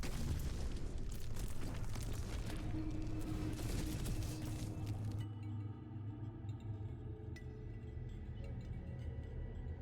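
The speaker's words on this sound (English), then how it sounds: "Just keep holding the corpse explosion and then cast your golem" Corpse explosion spells in an action role-playing game burst in a continuous, dense string of booms and crackling blasts, loud for five seconds before dropping to a quieter, intermittent rumble.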